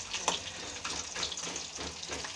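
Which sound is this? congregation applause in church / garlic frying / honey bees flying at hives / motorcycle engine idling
garlic frying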